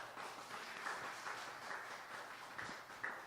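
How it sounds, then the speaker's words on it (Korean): Audience applause at a 100-day celebration event for a channel: a faint, steady patter of many hands clapping, continuing evenly for a few seconds with no voices over it. "또 박수 한번 주시기 바랍니다"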